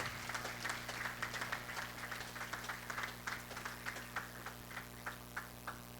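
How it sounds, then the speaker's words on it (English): An audience applauds children after their performance, with distinct, fairly regular claps standing out over a low steady hum, sounding like a modest group clapping at moderate distance. "I really would like everybody to give a round of applause to all these children who did so well"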